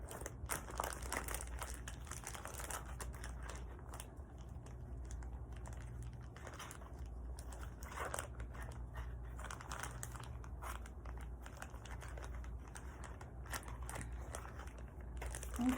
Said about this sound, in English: we're going to just knead the flour into the chocolate